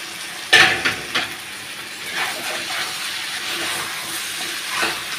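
Fried shrimp drop into a sizzling pan of spiced oil with a sharp splashy crackle, followed by a few stirring scrapes and a steady close hiss of frying.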